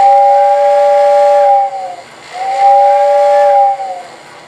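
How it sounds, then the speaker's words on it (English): A Lionel Powermaster model locomotive's tender air whistle blows twice, each a loud, steady two-tone hissing blast lasting about a second and a half with a short gap between. "the air whistle and the tender will blow"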